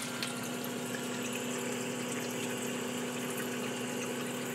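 A return pump hums steadily inside a Red Sea Reefer 250 aquarium as it fills the return chamber, giving a constant, fairly quiet hum under a wash of moving water with no breaks.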